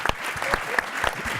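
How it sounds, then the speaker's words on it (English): A crowd at a generative AI summit claps for a panel, a brisk burst of dense applause with distinct nearby hand claps popping above the wash of the room. "I'm hoping you give the panel a round of applause"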